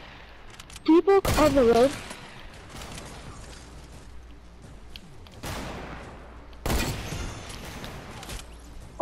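Bursts of loud gunfire from a video game sniper fight, with a few rapid cracks, a longer blast of shooting, then another heavy volley later, mixed with in-game sounds and voices talking throughout.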